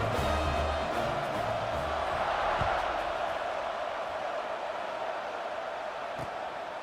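Steady roar of a large stadium crowd at a college football kickoff between California and Virginia, a broad sustained cheer that fills the whole stretch with a commentator's voice faintly underneath.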